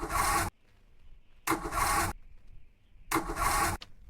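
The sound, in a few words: car engine failing to start in a video game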